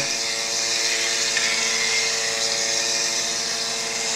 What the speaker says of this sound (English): Now it's just a stick blender.